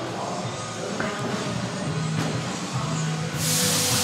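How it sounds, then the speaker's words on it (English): An air compressor drones steadily close by in a workshop, a continuous mechanical hum with a burst of hissing air near the end. "I'm sorry for the noise, but that's the compressor"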